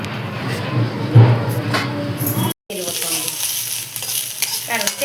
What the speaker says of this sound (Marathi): आधी मिरची भाजून घेऊ।